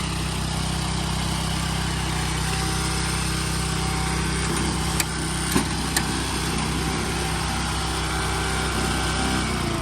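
An old Japanese tracked crawler carrier rated for 250 kilograms runs its small engine in a loud, steady, high-revving drone, heard up close with a few brief knocks.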